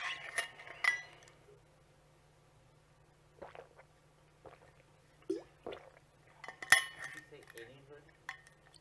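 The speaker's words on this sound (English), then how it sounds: "I need to drink water." Glass clinks with dish and cutlery-like knocks in scattered bursts as water is poured and drunk, close and fairly faint, with a low steady hum underneath and no speech.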